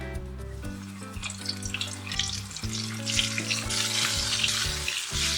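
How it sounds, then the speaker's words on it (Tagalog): Steady hot-oil sizzling of chicken feet frying in a pan, with broad crackling hiss throughout and a background tonal hum; no speech. "So yun guys, mainit ng ating mantika. Pwede na tayong magsalang."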